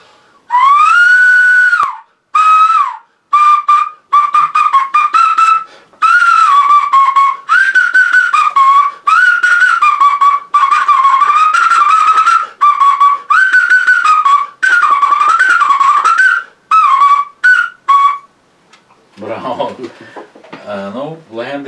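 A whistle-like melody is blown on a bottle cork in a Carpathian folk performance. The tune is loud and bright, played in quick phrases with short breaks, and ends with a brief lower buzzing tone.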